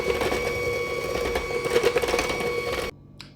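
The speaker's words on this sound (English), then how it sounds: "bring back our hand mixer and mix this all together" A hand mixer whirs steadily through maple pecan cookie dough after dry ingredients go in, a loud continuous motor drone with rhythmic churning that cuts off abruptly near the end.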